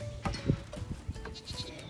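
A social, playful goat bleats in short, wavering calls, fairly faint and close, with a few soft rustles and movements between cries.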